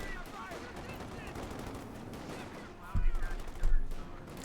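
Machine gun fire from an M20 armored car in the strategy game Company of Heroes 2, a rattling burst of gunfire under a busy battle mix, swelling into louder crackling volleys near the end.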